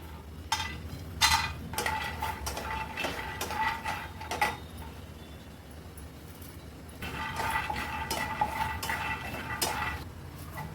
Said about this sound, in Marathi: हा मसाला आपण भाजून घेऊया शेंगदाणे टाकतो